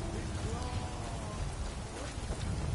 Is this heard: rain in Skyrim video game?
yes